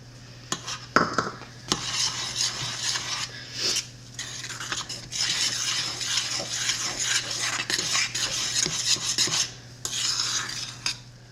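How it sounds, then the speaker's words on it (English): A spoon stirs sugar into cranberry mustard in a pot, scraping and swishing steadily and close by for several seconds with brief pauses, and no voices. "now I'm gonna stir in 3/4 of a cup of sugar"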